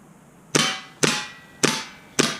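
KWA MP7 gas blowback airsoft gun with a suppressor firing four single rounds, each a sharp crisp snap with a short metallic decay, evenly spaced and close.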